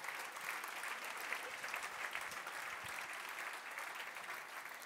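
Steady, fairly distant audience applause at a German gastronomy awards night, a continuous even wash of many hands clapping without pause and no voices on top.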